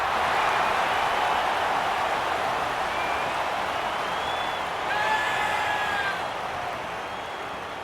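A stadium crowd at an AFL match between Port Adelaide Power and Sydney Swans roars after a goal, a broad, distant wash of cheering and applause with a few whistles, swelling briefly before easing off.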